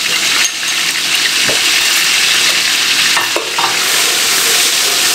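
Ginger garlic paste frying in hot ghee for chicken dum biryani: a loud, continuous sizzle close up, with brief spatula scrapes and clinks against the pot.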